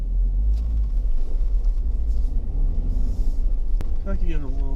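A car engine idles and rumbles low and steady while a learner practices driving stick shift, with wind buffeting and people talking throughout.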